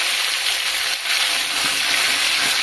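Cut cauliflower florets fry in hot oil in a pan, giving a loud, continuous bright sizzle with no talking.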